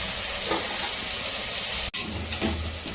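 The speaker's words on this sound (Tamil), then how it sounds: "வெங்காயம் வந்து பார்த்தீங்கன்னா ஆயிலில் நல்லா வதங்கட்டும்." Onions sautéing in oil for a basmati chicken biryani give a steady, fairly loud hiss and sizzle, briefly cut by a short dropout partway through, with no voices.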